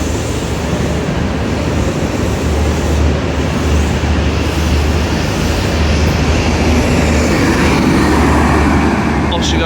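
Midland Pullman train pulling out of York station on the East Coast Main Line, a loud, steady low rumble and broadband rail noise sustained throughout, with a faint brief high squeal near the end.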